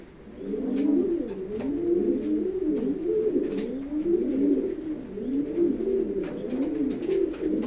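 Racing pigeons in a loft with a hen sitting on eggs coo close by, a rhythmic run of rolling, throaty coos repeating steadily throughout, with faint clicks and rustles behind.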